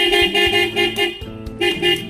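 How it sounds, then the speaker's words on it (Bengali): A car horn blares in a quick series of loud honks, a pair of beeps, a short pause, then another long blast, close and piercing. "হর্ন দাও একবার"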